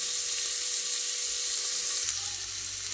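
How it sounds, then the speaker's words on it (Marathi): Chopped onion and green chillies fry in a pan, giving a continuous, even, close sizzle that stays steady throughout with no talking. "आता कांदा टाकला भाजायला आता कांदा चांगला भाजून घेतली"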